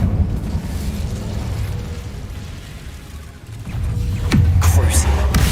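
Incendio fire spell cast in Hogwarts Legacy on PS5, a rumbling, whooshing burst of flame that swells and then flares with sharp bursts near the end, with game combat noise around it.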